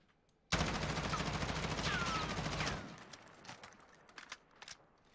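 Sustained burst of automatic M4 assault-rifle fire fitted with a compensator in the Warzone video game, loud and close for about two seconds, then trailing off into scattered faint impacts and echoes.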